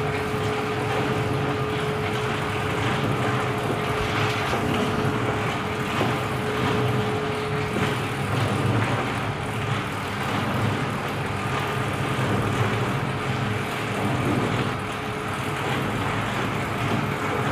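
A soap ribbon mixer with an iron frame and a 2 hp single-phase motor runs at a steady, loud mechanical drone with constant rumble, no pauses.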